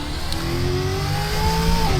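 A V8 Supercar Mustang racing-game mod, modelled on the WAU and Tickford cars and using engine audio recorded at Sandown, howls at high revs, a loud, steady engine note climbing in pitch up close without a break.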